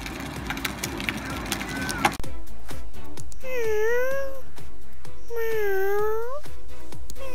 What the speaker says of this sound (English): A kitty was stuck in a tree.